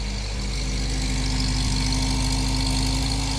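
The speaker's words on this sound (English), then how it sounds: "So it's idling at 1600 RPM. That's because it's got 4 cylinders" A 1980 MG four-cylinder engine idles with a steady, even, close-up hum that holds at an unchanging pitch throughout.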